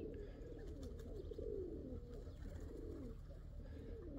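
Pigeons coo softly in a steady low murmur of overlapping calls outdoors on a mild winter day, continuous and moderately distant with no talking.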